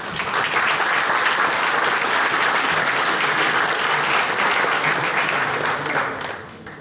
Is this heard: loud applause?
yes